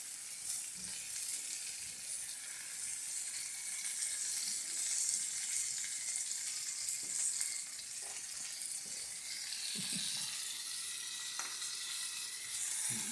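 Italian sausage cooking in beer in a pan gives a steady, close sizzle and hiss with faint bubbling, continuous and fairly even throughout, with only a few light clicks and no talk.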